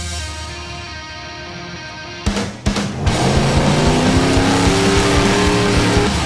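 A 6100 class off-road race truck engine idles roughly, then bursts into loud revving at the start of the Vegas to Reno desert race, with sharp cracks followed by a rising, sustained roar of acceleration close by.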